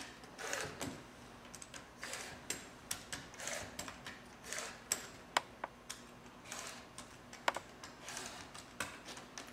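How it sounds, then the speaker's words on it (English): A 28mm rotary cutter slicing fabric down the slots of a Quick Points ruler for rick rack, heard as a string of quiet, sharp ticking clicks and short scrapes at an uneven pace, close by with no talking. "use your 28mm rotary cutter once again, and you would just cut like we did before down the slots,"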